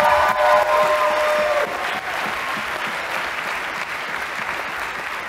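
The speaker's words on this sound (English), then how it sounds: "Let's give another round of applause for the fantastic teams in this debate." A hall audience applauds after the open final of the 2017 European Universities Debating Championship in Tallinn, with dense, sustained clapping and faint cheering throughout and no one speaking.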